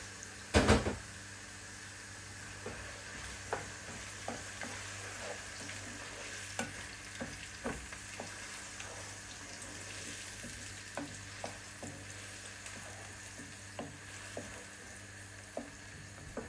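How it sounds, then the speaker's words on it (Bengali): Onions fry in a pan with a constant soft sizzle, while a spoon stirs them with light, regular taps. A loud knock comes at the very start. "পেঁয়াজটাকে আমি ভালো করে ভেজে নিব যাতে কাঁচা পেঁয়াজের গন্ধ না থাকে"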